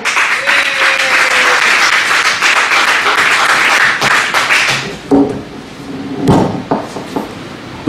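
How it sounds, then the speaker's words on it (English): Loud, sustained audience applause fills a comedy night at a Richmond, Virginia bar as the next comedian is brought on, steady clapping for about five seconds before thinning into scattered claps and a few shouts. "Please put your hands together for Mr."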